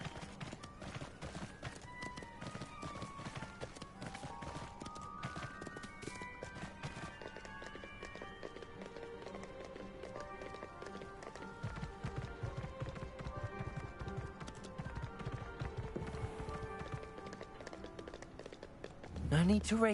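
Horse hoofbeats from a mount ridden in Hogwarts Legacy, a steady clip-clop running continuously under game music, ending with a brief whinny-like cry at the close.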